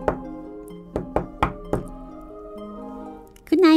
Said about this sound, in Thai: มันก็วิ่งตุ๊บๆตับๆขึ้นไปชั้นบนไปเคาะประตูเสียงดัง